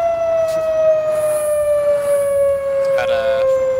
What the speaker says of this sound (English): Got an actual Q siren on this one.